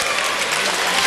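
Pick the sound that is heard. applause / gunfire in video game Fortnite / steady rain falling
applause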